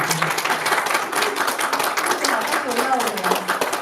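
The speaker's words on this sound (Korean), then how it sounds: "분께 뜨거운 박수를 부탁드립니다." An audience gives warm applause at a live performance of Korean traditional dance and music, a scattered clapping texture mixed with voices and a host speaking over it.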